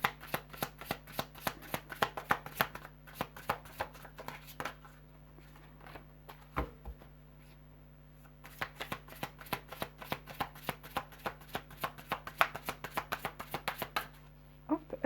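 Tarot cards being shuffled by hand, a long run of quick crisp riffling snaps that pauses briefly midway and then resumes, close and clear with no talking.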